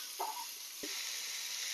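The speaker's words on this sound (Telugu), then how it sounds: "వీటిని చాలా మరీ ఎక్కువగా ఫ్రై చేయకూడదండి, జస్ట్ లైట్ గా ఫ్రై చేసుకుంటే సరిపోతుంది." Sliced onions frying lightly in oil for gunta ponganalu (paniyaram) give a steady soft sizzle and hiss, with a couple of brief stirring taps near the start; no one speaks.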